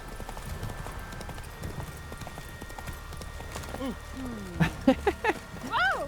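Horse hooves clip-clop steadily in The Witcher 3 on Skellige, with a horse whinnying near the end over faint background music.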